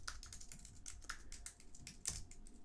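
Code is typed on a computer keyboard in quick, close, fairly quiet keystroke clicks with brief pauses, no talk.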